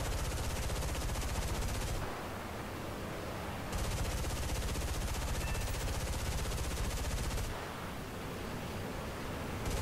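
Sustained .50 caliber machine gun fire from an aircraft in the War Thunder game, loud dense bursts that rattle on continuously with two short lulls where the firing drops back to engine roar.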